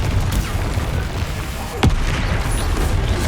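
A Confringo fire spell in Hogwarts Legacy bursts with one sharp explosive crack amid a dense, rumbling wash of combat noise that stays loud throughout.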